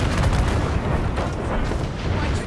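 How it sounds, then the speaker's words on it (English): Ships fire mortars during a naval battle in Assassin's Creed Rogue. Loud, overlapping booms and blasts roll through a dense, continuous wash of battle noise. "Good use of your own mortars."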